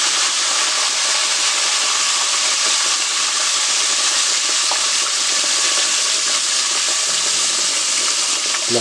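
Chicken fries in a pan for a buffalo chicken sandwich, making a loud, dense, unbroken hiss and sizzle that holds steady from start to finish.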